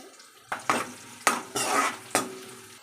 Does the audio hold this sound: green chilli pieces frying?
yes